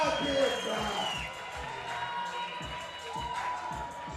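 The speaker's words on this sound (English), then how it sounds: "Crowd getting worked up for this." Spectators at the Bloc Shop Open 2018 bouldering finals raise a steady, rowdy crowd noise with scattered whoops and cheers as a climber fights near the top, a continuous roar rather than separate bursts.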